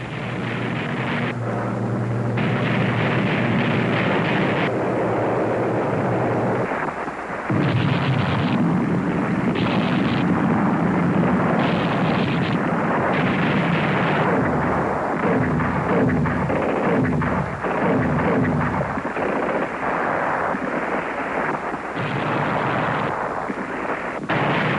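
Heavy naval and air bombardment of a Pacific beach landing, loud continuous rumbling barrage with repeated booming blasts and roaring aircraft engines layered throughout, no voices.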